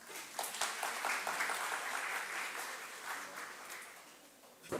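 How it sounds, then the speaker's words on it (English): Audience applause at an international linguistics and literature symposium: a dense, steady wash of many hands clapping for several seconds, then tapering off, with a brief sharper burst at the very end. "A big round of applause for Dr."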